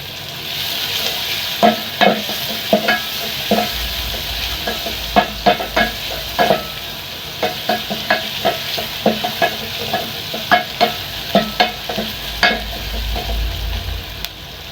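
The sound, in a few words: garlic frying in a pan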